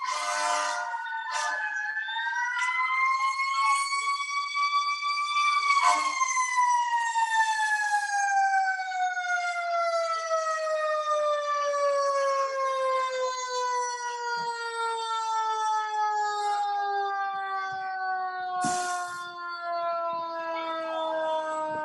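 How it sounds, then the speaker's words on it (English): Fire engine siren as the apparatus arrives at a fire department training ground, a loud continuous wailing tone that rises, holds and slowly falls, with short bursts of air horn and no talk. "That sound is engine 61 coming in."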